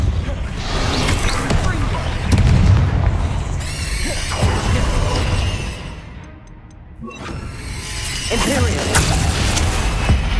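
Confringo fire-blast spell exploding in Hogwarts Legacy gameplay, a loud booming burst followed by crashing debris and whooshing effects amid dense game action; a brief quieter gap, then the clash resumes.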